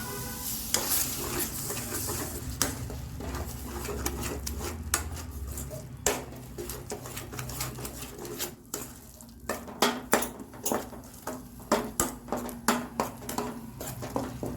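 Tomato puree cooking in a pan of paneer gravy as a spoon stirs it steadily, giving repeated scraping taps against the pan over a continuous soft sizzle, the strokes growing more regular toward the end.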